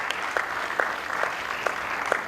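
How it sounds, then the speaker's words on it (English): At a Rotary club event for a blood donation van, the audience applauds in a close, steady patter, with a few sharper claps standing out at a loose, regular beat. "I think the audience should give a big round of applause"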